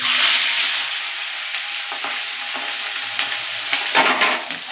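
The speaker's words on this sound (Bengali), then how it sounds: "এবার আমি মাছগুলো আগে ভালো করে তেলটাকে গরম করে তারপর একদম আঁচটাকে কমিয়ে মাছগুলো খুব সাবধানে ছেড়ে দেবো" Tengra fish fry in hot oil in a kadai over a low flame, a loud, continuous close-up sizzle with a few soft pops and crackles and no voices.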